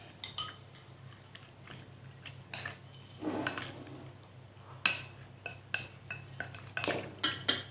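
Seasoning of salt, powdered broth and pepper being mixed into cutlassfish in a bowl, with irregular metallic clinks and scrapes of a spoon against the dish and soft wet stirring between them, close and alone.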